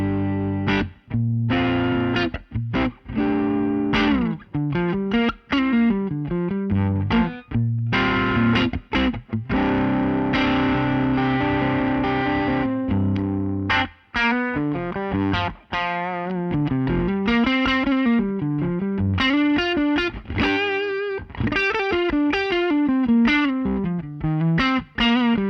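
Electric guitar through a handwired Bad Cat Cub V amplifier, played with chewy, driven tones: sustained chords and melodic bends with slight distortion, loud and close, with no voices.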